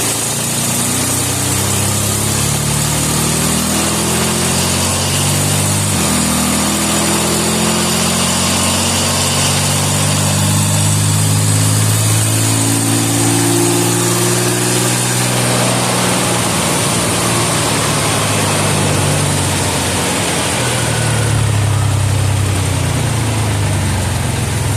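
A Ford C4 automatic transmission kicks down while the engine runs steadily and loudly throughout, with low engine tones shifting in pitch as the revs rise and fall, and no talking.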